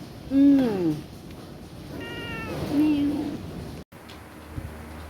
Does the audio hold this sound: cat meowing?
yes